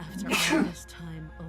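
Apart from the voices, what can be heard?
sneeze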